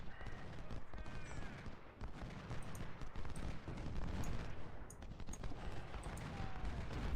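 Musket volleys in Ultimate General: Civil War, a continuous crackle of massed rifle fire mixed with scattered louder shots, rumbling battle noise and faint clattering, sustained throughout.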